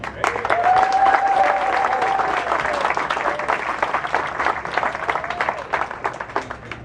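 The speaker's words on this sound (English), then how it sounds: "So please join me in giving these incredible education champions a well-deserved round of applause" A round of applause from the audience at a chamber of commerce mixer, honouring education champions: steady, dense clapping that stays loud for about seven seconds, with a faint whistle or cheer briefly rising above it.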